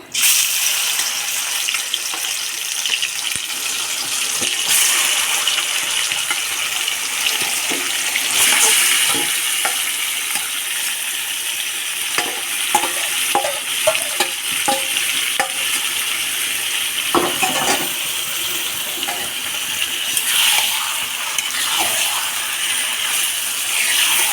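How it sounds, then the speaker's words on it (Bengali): Marinated chicken fries in hot oil in a pan with a loud, steady sizzle and spatter that continues throughout, punctuated by intermittent utensil scrapes and stirring clatter, with no talking. "তারপর দিয়ে দিলাম আমাদের মাখানো মাংসটা"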